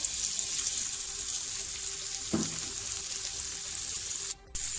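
Finely chopped medium onion frying in about three tablespoons of hot oil, a steady close hiss of sizzling with a brief clatter partway through and a short break near the end.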